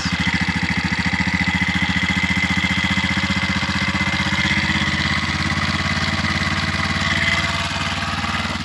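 A vehicle engine with both gauges opened to the maximum runs steadily near the microphone, a loud, even rhythmic chugging idle with a constant mechanical rattle throughout and no talking, at a camp in Bolivia.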